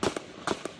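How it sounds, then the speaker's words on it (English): Gunshots ring out at a ballpark in Alexandria, Virginia early in the morning: four sharp, loud cracks in quick pairs, close and with no voices over them. "Gunshots blaring nonstop at this Alexandria, Virginia ballpark early Wednesday morning"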